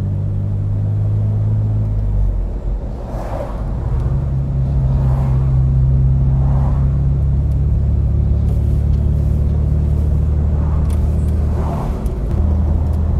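A Ford Capri 2.8 Injection drives along a road on a long trip, its engine giving a steady, close rumble of wind and tyre noise, rising and settling with a few brief swells of revving.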